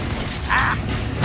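A Confringo blast spell cast in Hogwarts Legacy gives a short, bright burst over a busy game soundscape, and a deeper booming hit follows at the very end.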